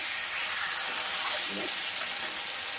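Spice paste fried down in oil in a pan for a light Bengali fish curry, giving a steady broadband sizzle that holds evenly throughout, with a faint stir scraping partway through.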